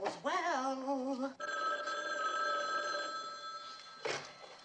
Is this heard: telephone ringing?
yes